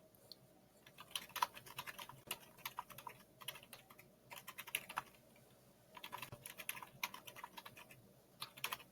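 Rapid, uneven clatter of keys on a computer keyboard as a prompt is typed, close and fairly quiet, in bursts with short pauses and no talking.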